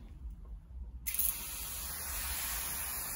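Steady spray hiss of water misted over oyster mushrooms, starting abruptly after a brief quiet moment and continuing loud and even, close to the ear.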